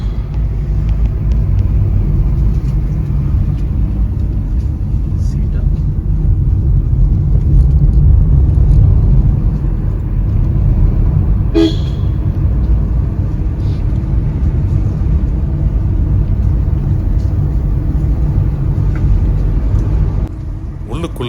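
A vehicle drives along a forest road on an elephant track, its engine a steady, loud rumble throughout with a few faint clicks and no clear horn.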